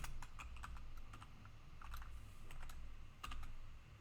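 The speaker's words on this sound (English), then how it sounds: "I think I can type accurately enough" Steady, fairly close typing of a URL on a computer keyboard, keys tapping in irregular quick clusters over a faint low hum, no voices.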